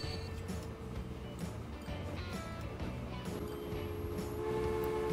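Train rolling along rails in the railway game Transport Fever, a steady loud mechanical rumble with sustained whistle-like tones running throughout, no talking.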